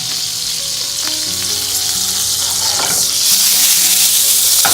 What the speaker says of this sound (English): So we're going to sear that.